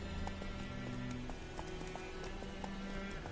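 Geralt's horse Roach galloping in The Witcher 3 on PS4, a steady run of hoof clops under dense game music and ambience.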